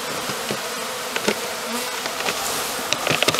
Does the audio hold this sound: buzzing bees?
yes